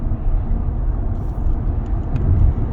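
Steady interior road rumble of a Peugeot 508 Hybrid accelerating from 50 to 60 mph, a continuous low drone of engine and tyre noise that swells slightly toward the end, with no talk.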